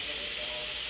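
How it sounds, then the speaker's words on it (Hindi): A pressure cooker just taken off the stove vents steam in a loud, continuous hiss, steady and close throughout with no pauses. "चूल्हे से हमने प्रेशर कुकर नीचे उतार दिया। इसमें से हम गैस निकाल लेंगे"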